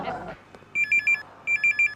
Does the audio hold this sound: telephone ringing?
yes